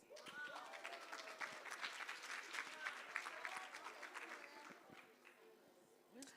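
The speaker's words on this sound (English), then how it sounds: "A round of applause, please." Applause from the audience at a Women's Day event as a team comes up with gifts, fairly faint and distant, irregular claps with some voices and movement mixed in, thinning toward the end.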